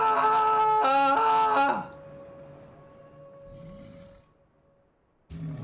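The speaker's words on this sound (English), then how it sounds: "Now, to test our whistle." A train whistle in Final Fantasy XIV gives a loud, harmonic blast of under two seconds. A thin steady tone lingers faintly after it, and a short burst of noise cuts in near the end.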